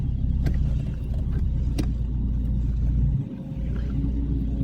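A car engine idles and runs steadily, a close low rumble that continues throughout with a brief dip near the end, no talking over it.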